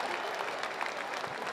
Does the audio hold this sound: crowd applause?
yes